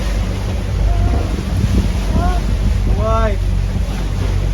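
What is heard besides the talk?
strong wind on a sailboat at sea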